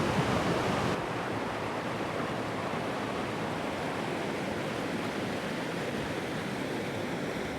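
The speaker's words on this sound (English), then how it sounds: "Right over here is that beautiful waterfall that everybody's coming to see." Dense, continuous rushing water roars steadily throughout, a broadband wash of a waterfall in Da Lat, Vietnam, heard from close by with no voices.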